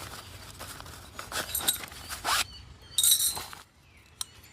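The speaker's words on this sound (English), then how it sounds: "The hardest part is taking a bleeding mesh tray out the bag." A zipper is worked on the carry bag of an ALDI folding fire pit while its mesh tray is pulled out. Several short, close zipping rasps come with light rustling and clinks, then a quieter pause.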